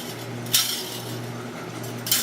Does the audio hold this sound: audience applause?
no